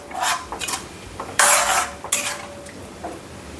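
Dal being stirred with about two glasses of added water in a cooking pot for dal fry, a few scraping, sloshing strokes close by, with one louder, longer burst in the middle and no voices.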